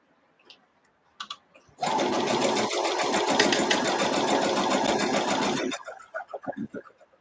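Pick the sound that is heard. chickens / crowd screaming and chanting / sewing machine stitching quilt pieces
sewing machine stitching quilt pieces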